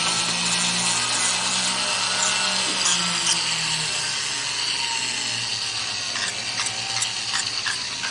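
A wooden fish pin is sanded at slow speed with sandpaper, giving a continuous, fairly loud abrasive hiss and whir with faint scraping variations throughout.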